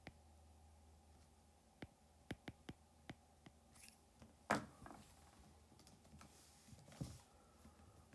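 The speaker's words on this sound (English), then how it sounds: "I'm going to type it into Wolfram alpha." Scattered computer keyboard keystrokes, a handful of separate quiet taps with one louder clack near the middle, set against a faint steady hum in a quiet room.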